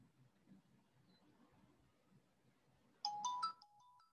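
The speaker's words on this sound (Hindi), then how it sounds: "एक लड़का बहुत फोन कर रहा है" A phone ringtone goes off from repeated calls during a class: a short bright melodic ring bursts out near the end after quiet room murmur, clear and close.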